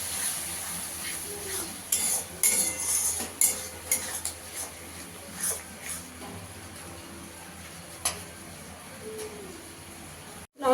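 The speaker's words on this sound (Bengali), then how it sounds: "দইটা দিয়েও ভালো করে কষিয়ে নেবো" Spoon scraping and clinking in a pan as spice paste is stirred with yogurt for a potol chingri curry, giving irregular soft clatters and scrapes over a steady low hiss, fairly quiet with no talk.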